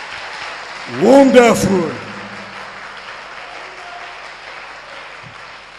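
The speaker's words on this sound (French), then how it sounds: "Si on peut acclamer pour lui." A church congregation applauds its pastor, a soft, steady patter of many hands kept at a moderate distance, while one voice calls out briefly near the start.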